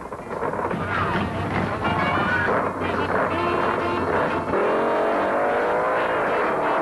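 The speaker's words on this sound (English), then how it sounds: "The Keystone car blows halfway down, and Denny puts the Ma and Pa Hoover through" A drag racing car at the 1972 UDRA Spring Nationals roars past at full throttle, engine blowing halfway down the track, loud and harsh with wind buffeting, the pitch rising then dropping as it speeds away.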